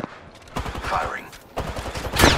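Gunfire in the video game Apex Legends comes in rapid automatic bursts, two loud volleys with a short pause between them, close and punchy.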